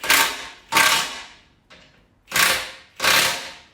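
A Milwaukee M18 high torque impact wrench nipping up towbar bolts on a Mercedes ML W163 fires in four loud, close hammering bursts, each about half a second long, with one weaker tap between them.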